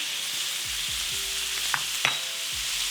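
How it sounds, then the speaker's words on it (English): Butter sizzles steadily in a hot pan beside seared steaks, with a continuous crackling hiss and a few soft thuds and clinks from handling, no talking. "We'll add our butter into the pan."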